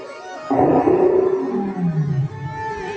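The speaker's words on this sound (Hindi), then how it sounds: "पीछे से शेर ने दहाड़ लगा दी" A lion's roar bursts out after a brief quiet, loud and close, a long drawn, descending growl that fades in its last second.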